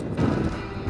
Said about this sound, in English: Really windy, guys.